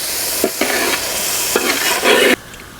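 A spoon scrapes and stirs chicken masala in a hot pan, village style, with steady sizzling and frying hiss broken by repeated scraping strokes, loud and close, ending abruptly.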